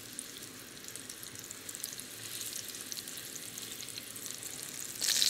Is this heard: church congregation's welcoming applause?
no